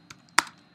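Two light keystrokes on a computer keyboard, a faint tap followed by a sharper, louder click, close and alone in a quiet room.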